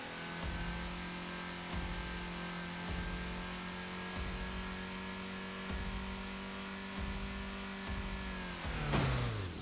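Mustang engine in Roblox Driving Simulator revving steadily with a sustained tonal hum, pulsing slightly at regular intervals, then shifting pitch sharply near the end as the car slows.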